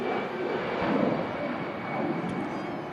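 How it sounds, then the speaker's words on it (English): An EasyJet airliner climbs out from Manchester Airport bound for Catania in strong gusty wind, a steady broadband engine roar that holds fairly even throughout, moderately distant with wind noise mixed in. "EasyJet climbs out to Catania."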